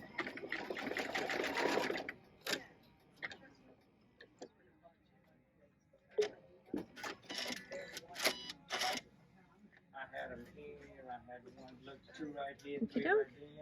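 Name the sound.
sewing machine stitching a buttonhole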